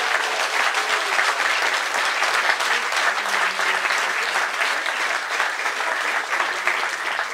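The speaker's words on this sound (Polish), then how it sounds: "te brawa są dla was, kochani" A crowd applauds at a political open meeting in Kraków, with continuous, dense clapping that holds steady and fairly loud throughout, with no speech over it.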